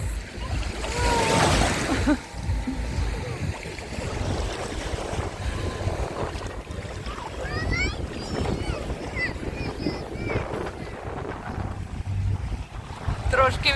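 Wind gusts buffet the microphone at the Black Sea shore in Odesa, with waves washing in the background and faint voices.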